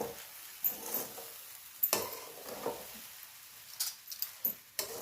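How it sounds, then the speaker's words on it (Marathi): Crumbled bajra bhakri sautéed in a pan: a quiet, steady sizzle with scattered scraping and stirring knocks from a spoon, close by with no talking. "मस्त असा परतून घ्यायचा आहे"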